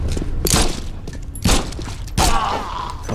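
Gunfire in the horror video game The Sinking City: three loud broadband shots spaced about a second apart, each with a booming tail, set against a dense, steady game soundscape.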